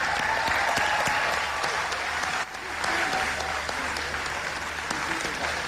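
Large summit audience applauding councillors leaving the stage, dense sustained clapping filling the room with a brief dip midway, a voice faintly audible over it.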